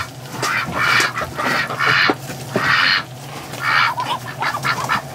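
Ducks, including Muscovies, around a farm pen with nesting boxes give repeated raspy quacks and honks in a series of loud, close calls spaced about half a second apart.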